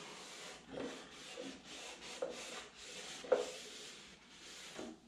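A cloth wipes and rubs over the surface of a motorcycle tour pack, faint repeated scrubbing strokes with a few slightly sharper swipes, close and quiet.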